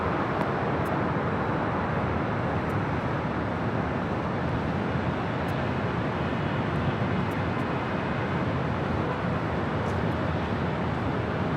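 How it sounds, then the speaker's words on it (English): A heavy Air China jet arrives at LAX on the north side, a steady, broad roar that holds at even loudness throughout with no voices over it. "Air China next heavy arrival here on the north side."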